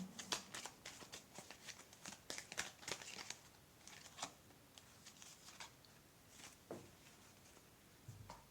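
Oracle cards being shuffled by hand, a run of quick riffling, crinkly card sounds in uneven bursts, close and quiet, thinning out toward the end.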